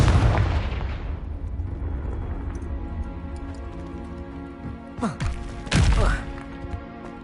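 Spell explosion in the Hogwarts Legacy video game: a loud, booming blast that rumbles and fades over a few seconds, followed by two sharper crackling impacts.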